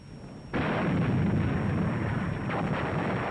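A WWII tank gun fires at point-blank range, one sudden heavy blast followed by a long, roaring rumble that carries on for several seconds, loud and without speech over it.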